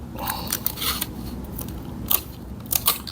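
Adhesive tape is pulled off a roll to fasten a trash bag to a desk during a cosmetology practical exam, heard as short crackling, ripping bursts at close range with no talking.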